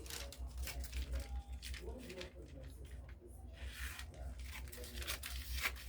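A paper corset blouse pattern with a basque curve is cut close by, giving crisp crinkling, rustling and tearing-like rasps in an uneven rhythm.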